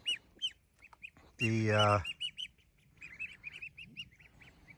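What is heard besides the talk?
ducks and geese calling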